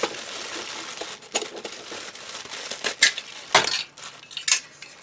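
Crinkling packaging rustles and crumples as two large metal spoons, one slotted and one regular, are unwrapped, with occasional clinks of metal close by.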